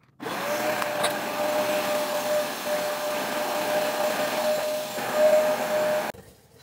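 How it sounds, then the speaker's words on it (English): A vacuum cleaner runs on a carpet, starting abruptly and droning loud and steady with a whining motor tone, then cutting off near the end. "So I'm finna do the vacuum and we're gonna see."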